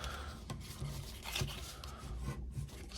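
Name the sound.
folding and burnishing paper score lines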